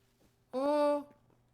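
A cat meows once in the Hytale video game, a single clear, drawn-out, tonal call standing out near and loud against a quiet low background hum.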